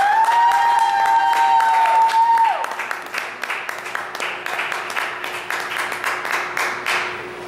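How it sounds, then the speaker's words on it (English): A comedy club crowd in Albuquerque claps for a comic after an introduction. A sustained tone opens, then a burst of many hands clapping settles into a thinning, scattered patter. "Thanks, Elena, for your prolonged clapping"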